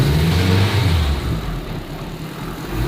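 A turbocharged K24 engine in a 600-horsepower Honda Civic race car drives through a new manual gearbox, a deep close rumble that swells and then eases off as the revs drop.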